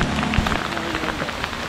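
Steady rain patters densely on surfaces during a cycling trip near Lac de Vouglan, a continuous close hiss of drops with no voices.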